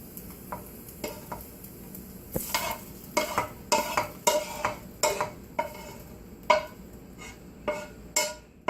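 Ground meat frying and being stirred in a pan for Southern chili, a close sizzle under repeated scraping stir strokes, irregular and fairly loud, with no voices.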